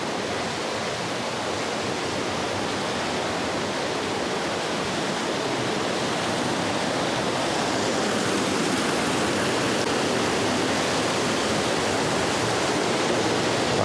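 A waterfall inside a river in a forest, water pouring steadily with a dense, unbroken roar that stays loud and close throughout, with no voices.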